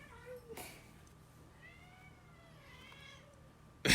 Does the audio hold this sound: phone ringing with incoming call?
no